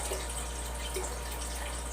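Spring water is poured steadily into a container while ginger and turmeric root tea is being made, a continuous close splashing wash with a low hum beneath and no talking.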